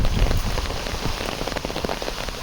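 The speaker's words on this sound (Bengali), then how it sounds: "বৃষ্টির শব্দটা শুনুন" Heavy rain with wind pattering on a hard surface, a dense steady wash of drops with a few louder splashes near the start.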